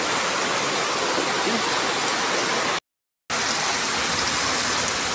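Loud, steady roar of overflowing floodwater rushing from a creek during a July flood, a dense broadband wash that cuts out briefly midway and then resumes.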